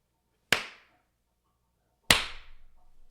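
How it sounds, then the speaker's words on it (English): Two sharp, loud hand claps for audio sync, about a second and a half apart in a quiet room, each with a crisp attack and a short decay, the second leaving a slightly longer ringing tail. "I'm going to clap one more time"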